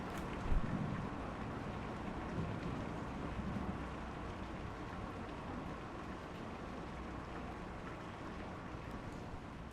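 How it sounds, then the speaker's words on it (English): Steady rain pours down in the video game Kentucky Route Zero, a dense, even hiss with a faint low rumble underneath, constant and close throughout with no talk. "I love rain in a game."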